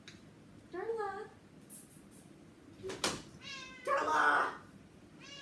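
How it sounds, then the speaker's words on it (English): A cat meows several times indoors, close and fairly loud, with drawn-out, rising cries spaced a second or two apart while a woman calls to it between them. "I'm trying to get this cat on camera now."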